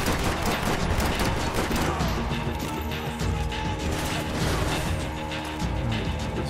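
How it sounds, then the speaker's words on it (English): Gunfight in the video game Max Payne 3: sustained, loud, chaotic gunfire with overlapping shots, crashes and impacts filling the whole stretch, with no pauses. "What it sounds like. A gunfight."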